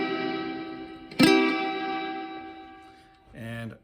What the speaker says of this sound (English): I dialed up some reverb,